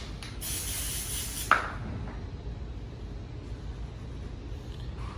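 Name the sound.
spraying oil onto wallpaper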